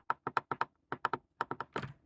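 A clicky rotary knob on a budget mechanical keyboard turns in quick runs of sharp, close detent clicks, grouped in bursts of four or so with short pauses, ending in a rougher, fuller click. No one speaks.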